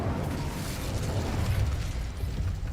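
The Incendio fire spell in Hogwarts Legacy erupts as a dense, roaring burst of flame, loud and sustained throughout with crackling, rumbling texture and no voices.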